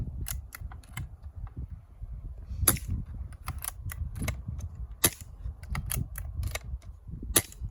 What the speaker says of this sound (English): I'll just show you the multi-shot system cycling. I haven't got any pellets here, so we're just firing air.